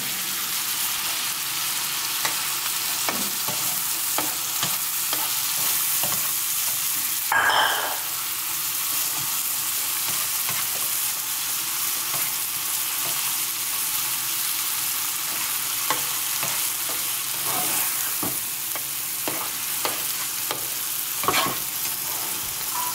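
Fish frying in masala in a pan, a steady loud sizzle broken by scattered crackles and a few sharper stirring scrapes, with no talking.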